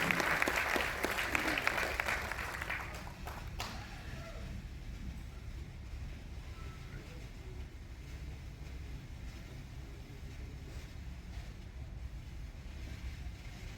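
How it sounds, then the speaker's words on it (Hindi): A hall audience at Bhilai Kala Mandir claps to welcome a Ramakrishna Seva Mandal swami, a loud burst for about three seconds that quickly fades into low room rumble and murmur. "जोरदार तालियों से उनका स्वागत करना।"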